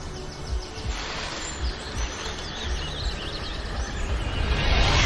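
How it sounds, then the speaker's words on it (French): Birds sing outdoors in a natural setting, faint chirps and warbling calls rising over a steady wind-like wash that grows slightly louder toward the end. "Les oiseaux."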